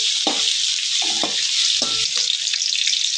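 Capsicum frying in a pan for chicken fried rice, giving a loud continuous sizzle with a few soft stirring knocks, close up.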